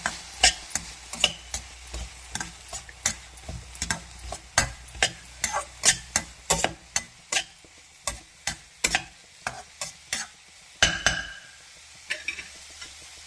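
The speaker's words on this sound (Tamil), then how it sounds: "இந்த துருவின தேங்காவை இந்த பீட்ரூட்டில் போட்டுக்கோங்க. நல்லா கலரிக்கோங்க." Grated coconut being stirred into a beetroot poriyal stir-fry in a pan: close, steady rhythm of sharp spatula scrapes and taps against the pan, with no voices.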